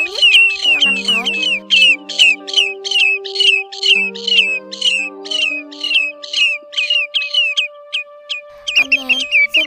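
Recorded calls of spotted redshank and other sandpipers: a long run of loud, sharp, rapidly repeated squawking notes close up, over a faint steady tone, ending in a brief tangle of lower calls.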